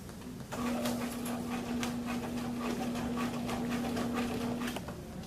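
A sewing machine stitches a corner seam on a garment in one steady, even run of about four seconds. A fast mechanical pulse sits under the motor's hum, and the run ends abruptly.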